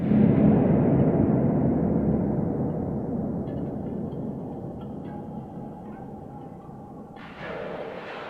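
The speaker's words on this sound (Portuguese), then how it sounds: "faixa ambiente um tanto inquietante, composta principalmente por ruídos de caverna, tilintar metálico, respingos, vento soprano e disparos de arcos abafados" An eerie Minecraft cave ambient track: a deep, rumbling wash that slowly fades, with faint scattered metallic clinks, drips and muffled bursts, then a brighter swell near the end, no voices.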